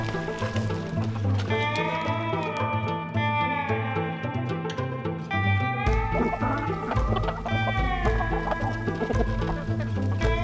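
Chickens cluck and warble continuously while being fed squash, several birds close by making overlapping throaty calls, with a brief low murmur of voices underneath.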